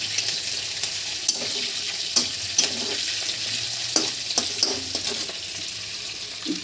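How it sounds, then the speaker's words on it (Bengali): Chopped onions and spices fry in oil for a country rooster roast: a steady, close sizzle runs throughout, punctuated by light, irregular clicks and taps of a stirring utensil against the pan. "তো আমি একে একে সব মশলা ভেজে নেব। দিয়ে দিলাম পেঁয়াজ কুচি"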